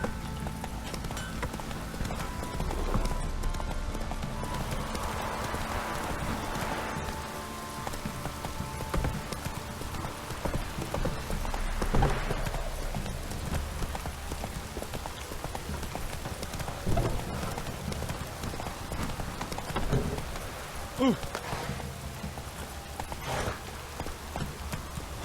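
Roach, a horse in The Witcher 3, gallops continuously with steady, fairly close hoofbeats over soft game ambience and music, no voices prominent.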